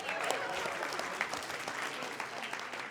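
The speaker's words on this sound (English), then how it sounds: "Give them a big round of applause." A conference audience at a BNI keynote breaks into sustained applause, a broad steady wash of many hands clapping throughout, with faint murmurs mixed in.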